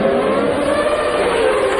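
Formula 1 cars from 1997 scream past at the Monaco Grand Prix around Loews hairpin, producing a brief, dense, high-pitched engine wail that stays loud and unbroken.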